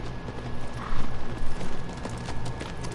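Brief burst of galloping horse hooves while riding in the video game Shadow of the Colossus, rhythmic thuds that surge louder midway over a steady low background, no voices.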